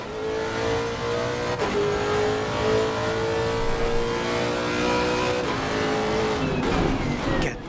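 Lexus race car in Assetto Corsa Competizione taking a final turn, the engine holding a steady loud drone with a gear change and shifting pitch as it corners, tire noise faint underneath.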